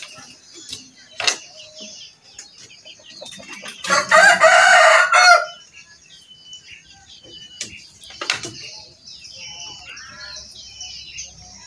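A Pelung chicken, a large-bodied breed, crows in a loud drawn-out burst near the middle, with scattered clucks and short calls before and after against a quiet yard background.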